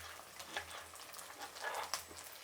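Quiet, steady sizzling of ingredients frying in a pan for ridge gourd chutney, a soft crackle with a few brighter pops, heard close but at low volume.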